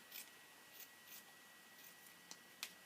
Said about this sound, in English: It's very difficult to cut the sticky side with the scissors